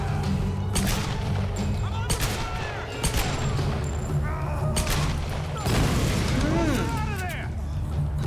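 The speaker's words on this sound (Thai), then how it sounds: "เอาถังระเบิดดีกว่า" Several loud explosive blasts and booms from an explosive barrel burst out in quick succession, mixed with gunfire-like cracks, in a busy Tomb Raider battle.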